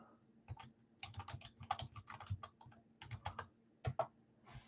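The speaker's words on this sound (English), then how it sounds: "I'm typing up who's left here." Irregular bursts of quick keystrokes on a computer keyboard, close and fairly quiet, with short pauses between flurries and no voices.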